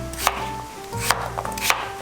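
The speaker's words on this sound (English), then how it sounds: "we can now add the potatoes, chop them into chunks" A knife chops potatoes into chunks on a chopping board for potato leek soup, giving three crisp, evenly spaced strikes close by, with no talking.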